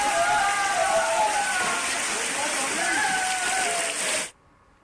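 Steady, dense rainfall in Rajasthan pours down loudly and continuously, with a faint voice underneath before it cuts off abruptly near the end.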